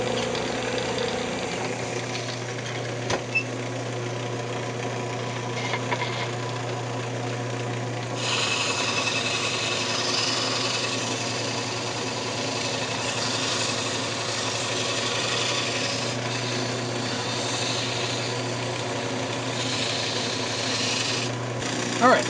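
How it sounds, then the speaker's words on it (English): Sandpaper rubbing a turned wooden wand spinning on a lathe, a continuous raspy friction over the steady motor hum that grows a bit brighter partway through, close and even, with no talk. "we'll go ahead and sand it. Turn the lathe speed back down."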